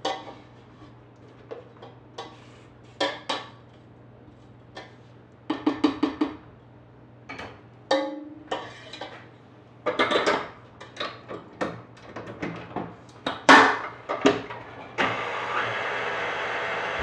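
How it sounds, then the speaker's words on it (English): A spatula scrapes Queen of Sheba cake batter up from the bottom of a mixing bowl in irregular short scrapes and light clacks, with pauses between strokes, then a steadier rushing sound at the end. "Scrape it up from the bottom, make sure everything is getting mixed in well."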